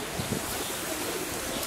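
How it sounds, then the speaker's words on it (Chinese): Pigeons from a row perched along a wall on a trip in Bulgaria give a few low, soft coos early on, over steady outdoor background noise. "站了一排鸽子。"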